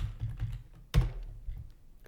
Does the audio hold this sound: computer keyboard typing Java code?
yes